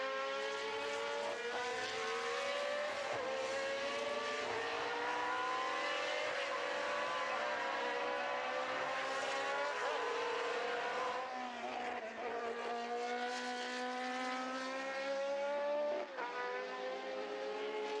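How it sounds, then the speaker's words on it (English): Historic race cars powered by Ford DFV engines scream around the Estoril circuit, a continuous, loud, high-revving engine wail that rises and drops through gear changes as cars pass close by. "So many of these cars powered by that wonderful Ford DFV."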